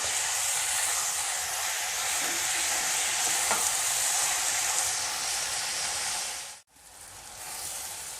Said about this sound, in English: And stir it nicely. Allow the tomatoes to become soft.